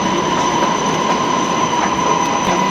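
A train rolling past on the rails, a loud, steady metallic rumble with a thin squeal from the wheels running throughout, close by and with no talking.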